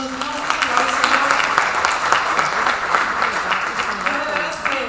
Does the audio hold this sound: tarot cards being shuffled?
no